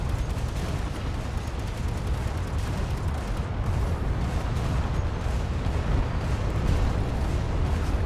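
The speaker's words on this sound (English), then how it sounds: "Archer missile pods." Archer missile pods in the game Space Engineers unleash a dense, continuous barrage of rumbling launches and blasts, loud and steady throughout without a break.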